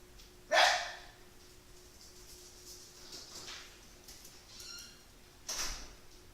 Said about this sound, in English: My dogs, every time I make a video, every single time they want to bark.